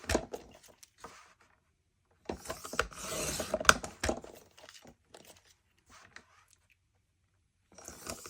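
Paper strips being cut for a handmade card project, giving a soft rasping, rubbing slice in one main burst near the middle, with a few quieter scrapes and shuffles around it.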